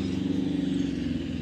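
A school vehicle pulls up to collect children, its mid-pitched engine running as a steady, fairly close hum with no pauses.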